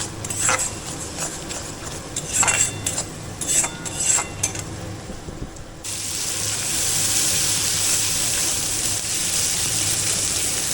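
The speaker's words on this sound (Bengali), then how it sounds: "অনেকক্ষণ কষাতে হবে যতক্ষণ তেল ছেড়ে আসে" Fish sautés in oil in a pan, opening with rattling, clicking stirs against the pan and then settling into a steady, close sizzle.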